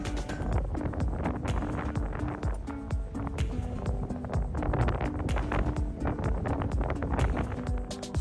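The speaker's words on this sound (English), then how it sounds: "we got back in the boat to visit the seal colony." A sea safari boat at Blacksod churns along on the sea, with rushing water and a droning engine under heavy wind buffeting the microphone.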